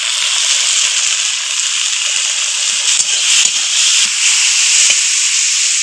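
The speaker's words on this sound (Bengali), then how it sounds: "পেঁয়াজ কুচি আর পেঁয়াজ একটু ভাজা ভাজা করে নিব" Chopped onion and black cumin frying in hot oil while making a dried-fish and green-tomato curry, giving a steady, close hiss and sizzle with faint soft clinks and no talk.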